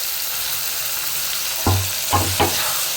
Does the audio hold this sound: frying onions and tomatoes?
yes